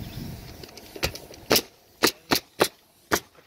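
A pneumatic roofing nail gun fires into hot asphalt shingles on a closed valley, giving six sharp, loud pops spaced about half a second apart, close by over faint background noise.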